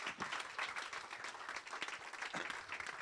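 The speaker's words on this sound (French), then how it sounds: "Je vous invite à continuer à applaudir" An audience at a Brussels evening arts event claps continuously, a dense and fairly distant wash of applause that stays steady throughout.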